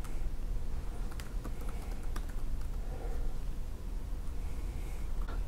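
Fast, irregular clicking of keys on a computer keyboard, steady and close, with bursts of quick taps against a low background hum and no talk.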